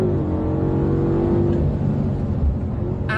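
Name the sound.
BMW M5 engine accelerating toward the red line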